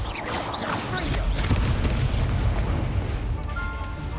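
Confringo fire spell explosion in a Harry Potter video game, a dense rumbling blast that fills the whole stretch with continuous booming low-end energy, with a voice speaking over the noisy game mix.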